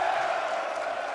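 Crowd of a couple thousand cheering at a Rainbow Six esports major final, a continuous roar in an arena with no talking.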